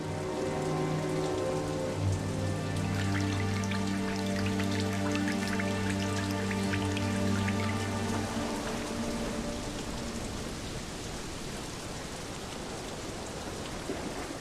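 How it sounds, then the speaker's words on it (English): Rain falls steadily at sea, a loud, continuous hiss of drops striking water and surfaces, with a low sustained tonal hum fading out partway through and no voices. "it started to rain."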